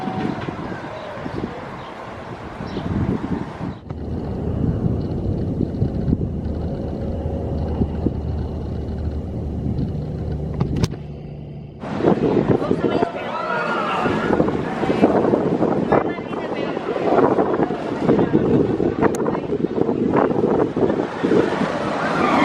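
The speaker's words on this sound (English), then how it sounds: "I think it's time for our next coaster, Patriot." Wind roars steadily across the microphone while riding the Patriot roller coaster at Worlds of Fun, loud and buffeting, with a low rumble partway through and a sharp surge of rushing air near the end.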